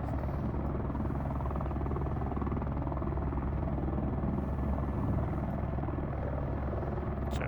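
Steady, loud rotor and turbine drone of a helicopter in the X-Plane flight simulator, fitted with a hoist mod for recovering deer carcasses, running continuously and evenly throughout.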